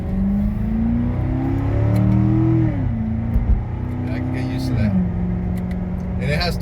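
A Corvette C7 Z51 with a naturally aspirated 6.2-litre V8, no supercharger, rumbling steadily while driving, its engine tone rising in pitch and then dropping back twice as the revs change, with a voice talking over it.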